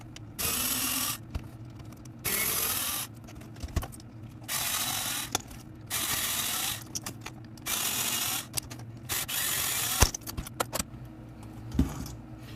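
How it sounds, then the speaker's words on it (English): Phillips head screws are backed out of the wheels of a Kyosho Blizzard RC snow vehicle with a screwdriver, giving repeated bursts of close, small ratcheting and clicking metal sounds broken by short pauses, with no speech. "All it is a Phillips head screw. So I'm just going to take all these off."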